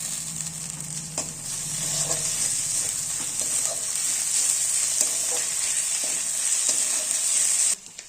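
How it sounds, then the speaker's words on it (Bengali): Onion with garlic and ginger paste fries in a pan for chana masala, giving a bright, steady sizzle broken by the soft scrapes and knocks of stirring. "রসুন বাটা দেওয়ার পর আমরা ভালো করে নেড়ে চেড়ে নেবো পেঁয়াজটার সঙ্গে।"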